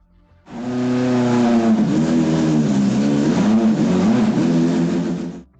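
Alfa Romeo Carabo sports car with a 2.0 litre V8 engine, a loud, sustained engine drone that rises and dips as it is revved, close and alone.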